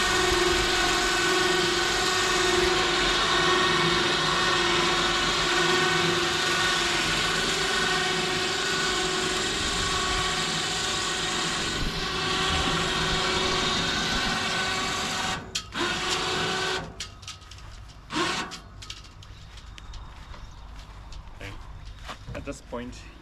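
A winch hauls up a Hobie 16 catamaran mast with a steady whirring, grinding drone that runs close and loud for most of the stretch, then breaks into choppy bursts and clunks near the end, with a voice talking now and then.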